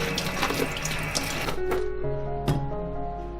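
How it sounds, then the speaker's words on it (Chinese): Tap water runs steadily over cut potato chunks in a kitchen sink, rinsing off surface starch, a continuous close splashing flow that eases partway through with a couple of brief clinks. "再切成块， 再冲一下水，洗掉表面的淀粉。"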